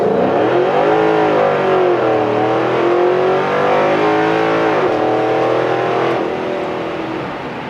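A 2013 Ford Mustang GT Track Pack accelerates hard from inside the cabin, its V8 roaring loudly as the revs climb and dip through gear changes, a continuous deep engine drone with no talk over it.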